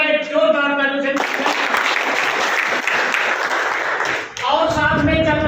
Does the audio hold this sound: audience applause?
yes